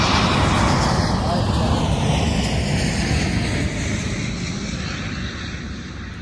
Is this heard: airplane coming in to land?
yes